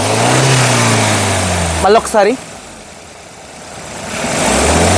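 A 2021 Maruti Suzuki Ertiga ZXI engine idles with a steady hum, someone speaks briefly, and the engine then revs up with a rising roar near the end.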